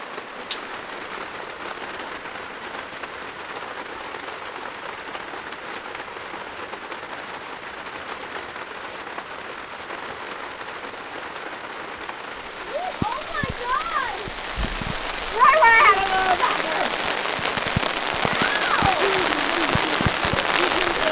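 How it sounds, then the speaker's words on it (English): Rain drumming on a hot tent at a campsite at night, a soft steady patter that grows heavier and harsher after the midpoint, with a few brief voices and sharper hits late on. "Enjoy the rain in the tent."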